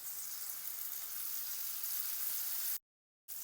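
An egg omelette sizzles in oil over cumin and garlic paste with a pavta bean filling, producing a steady, bright hiss close by that briefly cuts out near the end.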